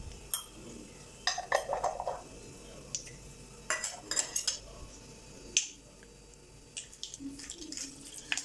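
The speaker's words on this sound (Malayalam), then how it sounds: "കടുക് അതിലേക്ക് ഇട്ട് കൊടുക്കാം." Mustard seeds are tossed into hot oil in a cooking pot: scattered sharp clicks and light metallic clinks from the pan, with brief ticks spread irregularly over a quiet kitchen background.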